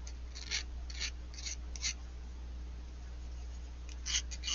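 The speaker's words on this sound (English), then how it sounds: "And I'm filing it so I don't get caught right now." Wire coiled around a cabochon piece of jewelry being filed: short, faint scratchy rasps in small clusters, close to the microphone over a low steady hum.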